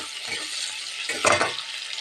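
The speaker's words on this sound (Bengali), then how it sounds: "টমেটো আর পেঁয়াজ এখানে ভাজতে শুরু করে দিয়েছি" Tomato and onion fry in a pan with a steady broadband sizzle, with stirring noises and a brief louder burst of spattering partway through.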